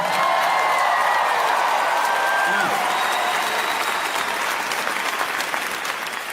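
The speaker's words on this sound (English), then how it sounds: "You guys are clapping" Stand-up comedy audience clapping, a loud dense burst of applause from a large crowd, with whoops and brief voices riding over it before it eases slightly toward the end.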